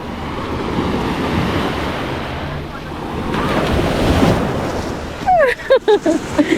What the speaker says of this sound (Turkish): Dalgalar.